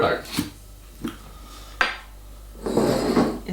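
Metal and glass clink and knock sharply a few times as a cocktail shaker is opened, followed by a brief splashing pour of the apple ginarita into a glass near the end.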